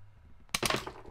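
Plastic trigger on a Star Wars The Last Jedi Resistance Ski Speeder toy, pressed once to fire its missiles: one sharp close clack followed by a short rattling thunk, faint and alone.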